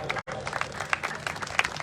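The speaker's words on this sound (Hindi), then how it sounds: "हम सब जोरदार ताली बजाएंगे।" An audience claps at a gospel festival in Jharkhand, a short dense burst of applause that cuts out briefly and then resumes, close and fairly loud.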